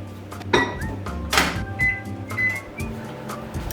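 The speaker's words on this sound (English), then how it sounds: "Now this goes into the microwave for 2 minutes." A microwave oven set to warm butter and milk gives a few sharp clunks from the door and buttons, followed by short electronic beeps over a low running hum.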